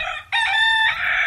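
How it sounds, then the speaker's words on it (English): A cockerel perched on a stump not far away crows at sunrise, one loud, full cock-a-doodle-doo close and clear, alone with no talk over it. "I'm with the cockerel as well. He's in residence. He's on a stump, not too far in the distance, as the sun rises"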